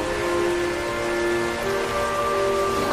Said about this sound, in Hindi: ये बारिश इतनी तेज क्यों हो रही है?